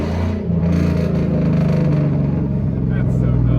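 A straight-piped, cat-deleted 5.3 Silverado with a 5-speed manual rumbles loudly and steadily through a downshift, a deep raspy drone that stays close throughout, with a voice talking over it.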